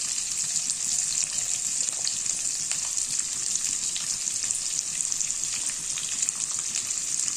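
Onions and chillies fry in a pan, giving a loud, unbroken sizzle that stays even from start to finish with no talking.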